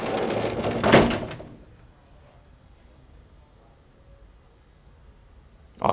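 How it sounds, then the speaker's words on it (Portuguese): A studio door closing on loud music plays as a single heavy thud near the start. Muffled sound fades to near quiet afterward, with faint high chirps and a small bump at the very end. "Vamos fechar mais uma porta."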